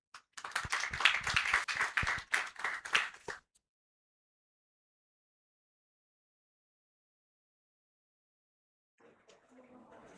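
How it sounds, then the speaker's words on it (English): A small audience at a gender equality event gives a short burst of close, uneven hand claps lasting about three seconds, then silence before faint talk returns. "Let's give a bigger round of applause to Bob."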